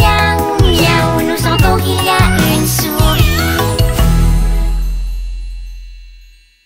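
Animated cat meowing in a French children's song, several bright sung meows over a bouncy musical backing, ending as the music rings out and fades.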